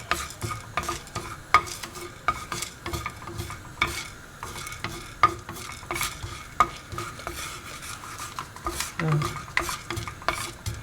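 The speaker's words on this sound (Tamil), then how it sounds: "இது மாதிரி வறுக்கணும்." Toor dal dry-roasting in a pan for sambar powder, a near, steady scraping stir with sharp clicks of lentils and spatula against the pan repeating every second or so, over a faint sizzle.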